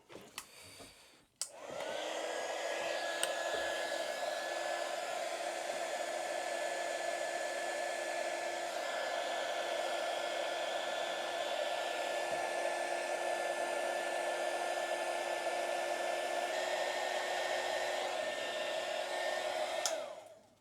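A pink heat gun blows a steady, loud hot-air roar for about eighteen seconds while shrinking heat shrink tubing over a crimped connection, with a faint whine running above the rush. It starts with a click and cuts off at the end.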